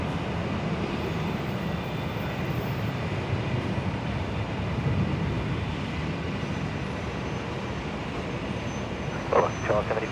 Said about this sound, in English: Virgin 328 just rotating there, heading off to Melbourne.